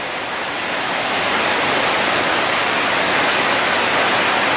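The year's first rain pours down steadily as a dense, even hiss that builds slightly and holds loud throughout, with no voices.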